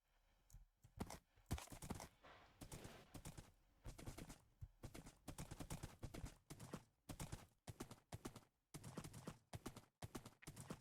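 Horse hooves clip-clop steadily in Minecraft as the horse is ridden across an open field, a quick, regular run of crisp clustered hoofbeats with brief pauses, fairly faint and with no voice over them.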